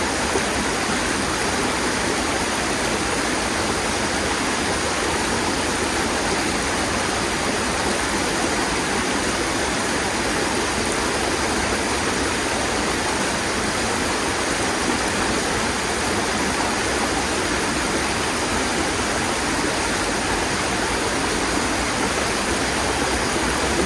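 A countryside stream flows steadily with a dense, even rush of water, close and fairly loud, continuous throughout with no talk.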